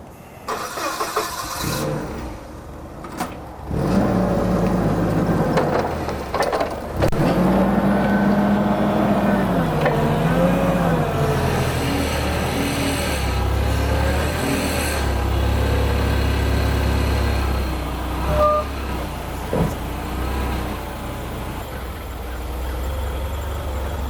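Forklift fitted with standard forks unloading a unit from a trailer at an installation site, its engine running steadily and loud throughout with shifting pitch as it maneuvers, after a few brief knocks at the start.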